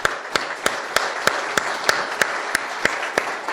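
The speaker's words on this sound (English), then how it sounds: "If we could get a round of applause for OpenDNS." An audience at a security conference applauds a sponsor, a dense wash of clapping with one nearby clapper's sharp hits standing out in a regular rhythm, without talk over it.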